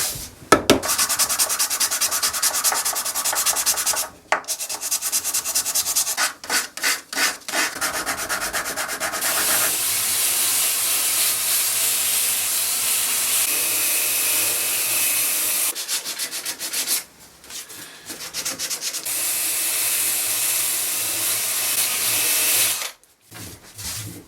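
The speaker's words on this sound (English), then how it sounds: "This is 240, so it doesn't need much of a sand because this is a veneered top." Steady, close sanding with 240-grit paper on the veneered wooden top of a 1950s Jentique writing bureau, a continuous abrasive rubbing that runs on and on with a few brief pauses.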